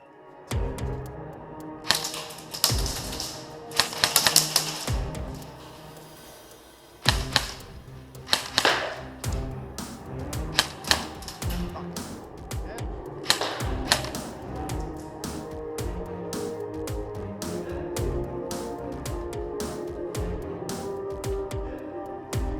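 Airsoft gun fired at an outdoor skirmish field, sharp snapping shots scattered irregularly through the clip, some in quick bursts, with clicks and rustling between them.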